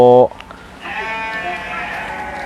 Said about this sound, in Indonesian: Domba atau kambing import jenis Texel yang masih asli.